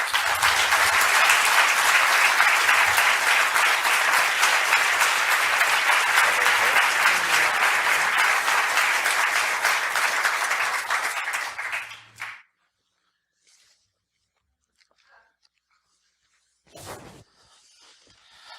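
Loud, sustained audience applause welcoming Christopher Hitchens to Los Angeles fills a hall for about twelve seconds, then cuts off abruptly into near silence, broken once by a brief faint noise.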